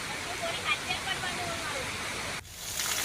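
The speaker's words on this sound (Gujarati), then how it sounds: "આ ધોધ વહે છે, જેને જોવા માટે ઘણા સહેલાણીઓ પણ આવતા હોય છે" A rain-swollen waterfall in the Aravalli hills roars as a dense, even rush of water that cuts out briefly, then resumes.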